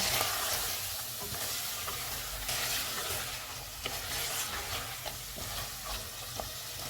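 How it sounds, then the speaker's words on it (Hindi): Spices fry in a pan for matka biryani, giving a soft, continuous sizzle with occasional scraping and tapping from stirring, fairly quiet and close, with no voices. "इनको 2 मिनट तक भूनेंगे"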